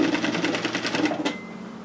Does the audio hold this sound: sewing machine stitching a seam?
yes